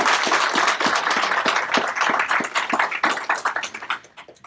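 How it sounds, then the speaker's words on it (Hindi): An audience claps loudly together at a talk, a dense burst of applause that holds steady before thinning out and fading at the end. "Please join your hands and give all of them a big round of applause."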